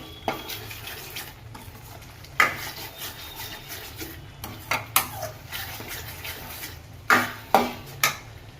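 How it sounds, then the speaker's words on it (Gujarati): Tomato gravy for a kala chana curry simmers in oil in a pot with a faint, steady bubbling. A spoon stirs it now and then, and sharp metal clinks and scrapes ring out near and clear. "મિત્રો ટમેટાની ગ્રેવી પાકવા માંડી ગઈ છે. જો તેલ ઉપર આવવા માંડી ગયું છે."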